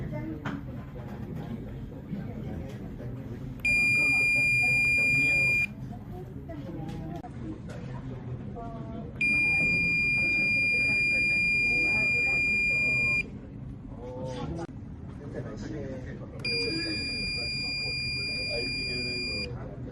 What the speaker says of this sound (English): Then the buzzer also will be turned off.